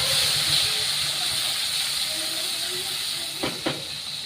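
Onion and garlic paste hitting hot oil, a loud continuous sizzling hiss close by that slowly eases, with a couple of brief knocks near the end and no speech.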